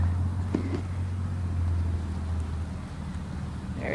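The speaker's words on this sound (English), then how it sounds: "The tractor over there is making some noise." A tractor runs at a distance outdoors during horse training, a faint, steady low engine drone that drops away after a few seconds, with light ambient noise around it.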